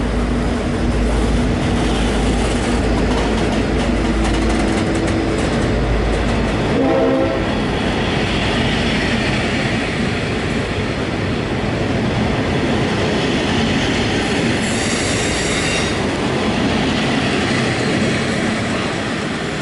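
A Swan Hill N set passenger train rolls slowly over points, a steady loud rumble of wheels and carriages with a few clicks from the track, close by and continuous with no talk.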